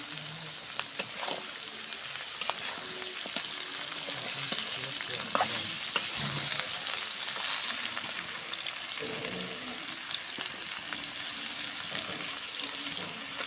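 Bitter gourd sizzling in a pan with onion and garlic, the frying crackling softly and steadily while scattered clinks and scrapes of stirring break through.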